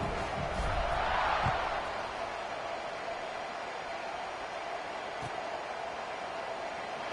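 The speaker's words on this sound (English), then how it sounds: "this crowd is buzzing after that last score." Steady roar of a stadium crowd in the College Football 26 video game, a dense, even buzz swelling briefly at the start, then holding level with faint thuds underneath.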